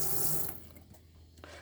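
An open hot-side tap in a 2015 Lunar Clubman SB caravan gushes briefly up close, then the flow cuts off, leaving faint trickles and a small knock.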